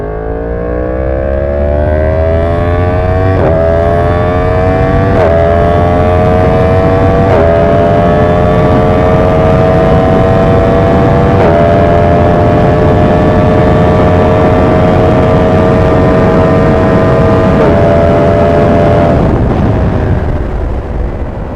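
Yamaha FZ-10 motorcycle accelerating hard with early gear shifts, a loud close engine howl rising in pitch through several quick upshifts, each marked by a brief dip before the revs climb again, with a steady roar of wind and road noise underneath.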